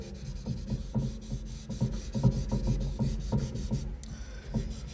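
Tissue rubs over a pencil drawing on paper to soften and blend the shading, making a steady series of soft, rhythmic scratchy strokes close to the mic, with no talking.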